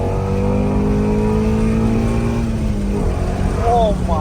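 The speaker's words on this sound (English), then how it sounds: "Downshift next to him." Ford Mustang GT350 engine revving on a downshift, a loud rising and falling roar with a sharp burst of revs near the end, heard from inside the car under brief talk.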